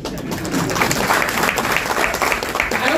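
Many hands clap steadily at an open public gathering held by a member of parliament, a loud, continuous wash of applause with faint voices mixed in underneath.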